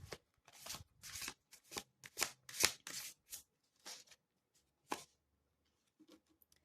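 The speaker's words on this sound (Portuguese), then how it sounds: "Deixa eu pegar outras cartas aqui." Playing cards are handled and shuffled close up in a quiet room, a string of crisp riffling bursts that thins out toward the end, with no talking.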